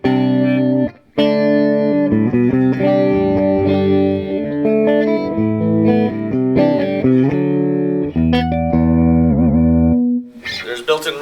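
An electric guitar plays a clean, dry tone through a Bogner Alchemist amp, ringing out sustained chords and single notes loudly and up close, with a brief gap early on and a short noisy scrape at the end.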